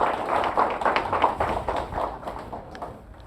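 Audience applause at a lecture event, a loose patter of clapping hands from a modest crowd, fairly close at first and then thinning and fading out over a few seconds.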